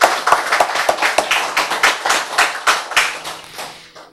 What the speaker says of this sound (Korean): 하여튼 박수 칩시다